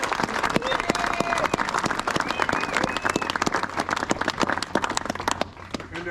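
An outdoor gathering's audience gives a big round of applause for a family, many hands clapping in a dense, steady burst with some voices beneath, tapering slightly near the end.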